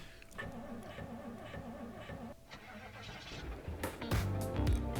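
A van engine starting in Project Zomboid, cranking under ongoing game ambience before catching and growing louder near the end, with a voice talking over it.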